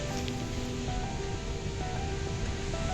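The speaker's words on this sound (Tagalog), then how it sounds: "Medyo malalaki pa yung alon." Large sea waves roll onto a beach on a windy morning after a storm, a steady rushing wash of surf with low rumble, continuous and fairly near.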